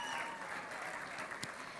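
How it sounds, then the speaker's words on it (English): Applause from an audience at a charity dance show event, honoring the volunteers; a steady wash of many hands clapping, moderately distant and fairly soft, with one sharper clap standing out near the end. "let's give a big round of applause for all of the volunteers who have been helping to really crunch these numbers"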